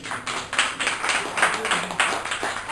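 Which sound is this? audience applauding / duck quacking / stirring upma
audience applauding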